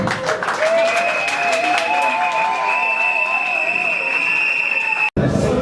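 A crowd at a Congolese political rally for the Alliance pour le progrès du Congo claps and cheers loudly, while a high, wavering tone rides over the steady applause. The sound cuts off abruptly near the end.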